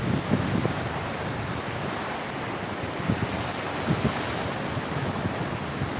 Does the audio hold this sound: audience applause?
no